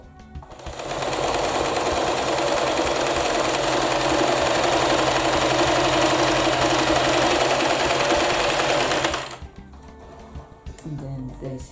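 A sewing machine stitches a test seam along the edge of a garment, a loud, steady, fast mechanical whir running unbroken for about eight seconds before stopping abruptly, with faint handling noise after.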